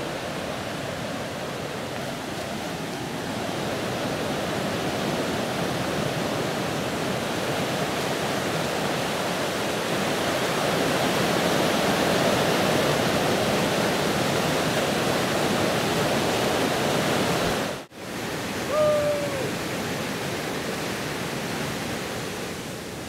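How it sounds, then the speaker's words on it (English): The waterfall and rapids of Overflow Creek at Oconee State Park pour with a loud, constant rushing roar. A brief dropout interrupts it near the end before the steady roar resumes. "So guys, just enjoy this waterfall."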